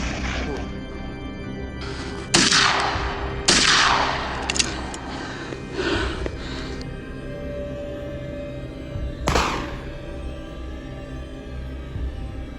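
Several sharp gunshot cracks ring out from a group of hunters shooting wild boar outdoors, widely spaced over a steady background rumble.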